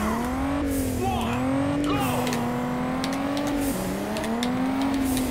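Race car engines rev and drone at the start of a race in the video game Juiced 2, a loud sustained whine rising and dipping with gear shifts and faint tire squeal, no talk over it.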